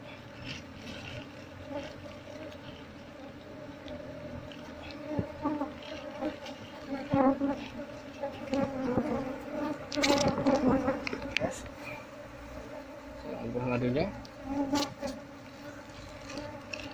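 Honey bee colony buzzing as hives are taken from the boxes by a beekeeper, a steady, dense, low drone of many bees with scattered rustles and knocks, fairly faint and continuous throughout.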